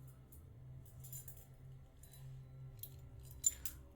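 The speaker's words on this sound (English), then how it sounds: "I can hear the distinction between keys." A bunch of keys jangles softly in a quiet room, several faint metallic clinks scattered across a few seconds, with one sharper chink near the end over a low background hum.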